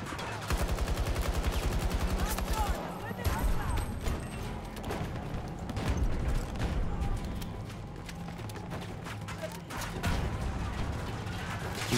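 Dense gunfire from the video game Battlefield 2042 keeps up steady automatic bursts and sharp cracks with clanks and crashes mixed in, loud and continuous for about twelve seconds.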